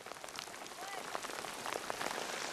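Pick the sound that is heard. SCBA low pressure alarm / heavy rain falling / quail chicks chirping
heavy rain falling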